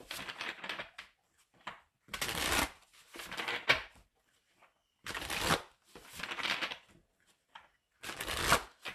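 A deck of tarot cards is shuffled in repeated short, crisp riffling bursts with brief pauses between them, close and moderately quiet.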